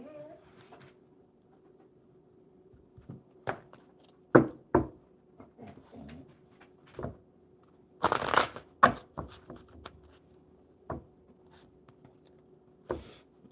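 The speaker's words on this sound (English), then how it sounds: "let's get these cards shuffled for Dave" A deck of cards being shuffled by hand during a live stream at a table, several scattered riffles and snaps including one longer burst, with soft knocks and handling noises between them in a quiet room.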